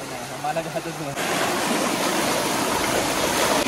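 Water gushes at strong pressure from a tap for hand washing, a loud steady rushing that starts abruptly partway through, with voices talking nearby before it.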